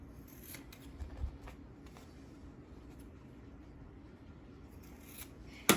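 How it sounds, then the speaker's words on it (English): Quiet snipping and rustling of scissors cutting off paper corners, with a sharper snip near the end; no talking. "take your scissors and just cut that off."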